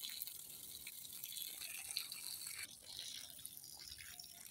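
Water splashes and trickles steadily onto garden plants, including a banana plant, a soft continuous pour with a brief dip partway through and no voices.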